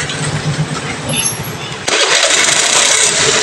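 Suzuki Burgman scooter engine after an idle-drop repair, running with a steady, even idle hum close by. It grows noticeably louder and brighter partway through and stays smooth and continuous without stalling.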